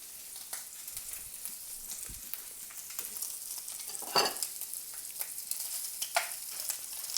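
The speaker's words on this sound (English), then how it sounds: "It's such a good sizzle." Bacon strips sizzle and crackle steadily in a hot frying pan during a breakfast burger cook, with a few louder pops and stirring scrapes over the continuous frying hiss, close up.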